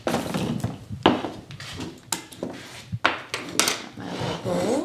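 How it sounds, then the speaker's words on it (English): Small clamps being taken off freshly glued guitar kerfing inside a wooden guitar body, heard as a series of close wooden knocks, clicks and rubbing scrapes at an irregular pace, with no talking. "So we're just going to remove the clamps here."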